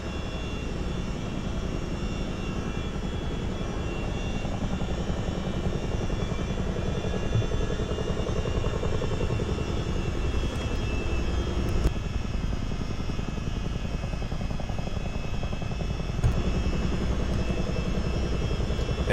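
A Boeing CH-47D Chinook twin-rotor helicopter in a flight simulator game produces a steady, loud turbine whine and dense rotor roar that holds constant throughout, with no talk.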